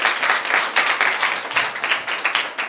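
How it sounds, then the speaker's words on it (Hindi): A church congregation gives strong applause, a dense crowd of hands clapping in uneven rhythmic surges, loud and near, with no talk over it. "जोरदार तालियां अपने खुदावंद के लिए"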